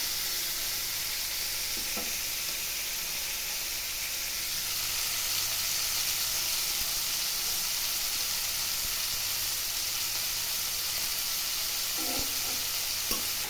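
Giant prawns frying in a pan, a steady bright sizzle with soft hissing, broken by a couple of brief clinks of a utensil being turned, with no talking.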